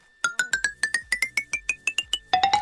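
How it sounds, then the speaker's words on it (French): Minecraft note block xylophone played on a bone block, a rapid rising run of about fourteen short, dry wooden-mallet notes, crisp and alone, ending on a few lower tones. "Le xylophone c'est avec un bloc d'os."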